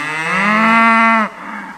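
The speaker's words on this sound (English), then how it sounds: "Moo! See who's coming there? The calves." Calves on a farm give a single loud, close moo lasting just over a second, with a rich harmonic tone that fades off abruptly, heard alone without talk.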